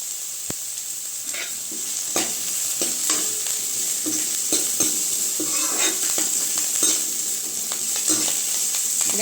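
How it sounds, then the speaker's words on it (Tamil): Onions sautéing with curry leaves in a pan for roadside-style mushroom masala, a bright continuous sizzle broken by repeated close scraping and clinking stirs of a spoon against the pan. "வெங்காயம் ரொம்ப வதங்கி வரணுங்கிறது இல்லை ஓரளவுக்கு வதங்கி வந்தாலே போதும்"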